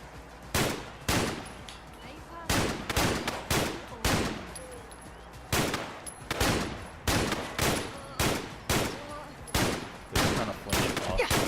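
Gunfire from a shooter in Fallout London, loud sharp shots in quick bursts and single cracks spaced irregularly, close and dominant with brief gaps between.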